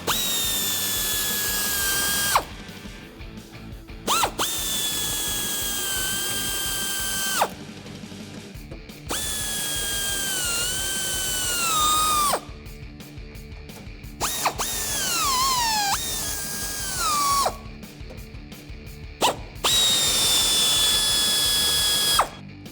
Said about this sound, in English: We have a pneumatic ratcheting wrench here just to make it faster.